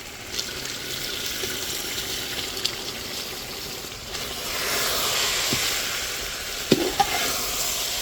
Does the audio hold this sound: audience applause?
no